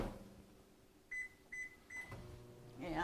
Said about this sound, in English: let's get this in the microwave and just get that melted.